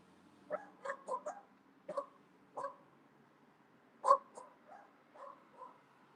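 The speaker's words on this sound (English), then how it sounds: "there was a lot of barking, extra barking" Dogs bark in scattered short bursts, a few single and double barks, distant and fairly faint against a quiet background.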